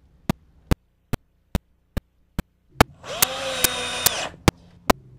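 A power drill driving screws to fasten table legs gives one short buzzing burst of about a second, rising then falling in pitch. A steady series of sharp, evenly spaced ticks sounds throughout, and there is no talk.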